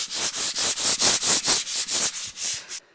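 Sandpaper is pushed hard by hand over a kitchen cabinet surface with the grain, giving about ten rhythmic, close scratchy strokes in a steady back-and-forth cadence.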